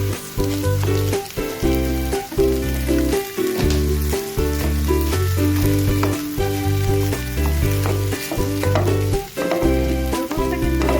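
Noodles being stir-fried in a pan, a continuous sizzle with frequent scraping and clanking stirs in a busy, uneven rhythm, while a low melodic tone plays throughout.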